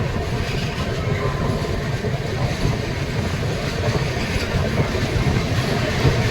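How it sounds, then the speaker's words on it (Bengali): The Kamakhya–LTT Karmabhoomi Express pulls into Rampurhat Junction with a steady, moderately loud rolling rumble and faint rail clatter that continues throughout. "359 কিলোমিটার ডিস্টেন্স কভার করে ট্রেন এসে পৌঁছালো রামপুরহাট জংশন"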